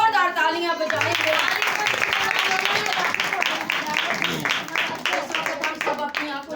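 A congregation at a women's intercessory prayer meeting claps in a burst of applause, with quick, rhythmic hand claps, moderately loud, rising and then thinning toward the end.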